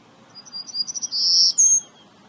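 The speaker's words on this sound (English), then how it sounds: "the golden-cheeked warbler is the only bird that breeds just in Texas" A golden-cheeked warbler, a bird that breeds only in Texas, sings a quick run of high, thin chirps that climbs into a sustained buzzy trill. It ends with a brief final note, clear and close against a quiet background.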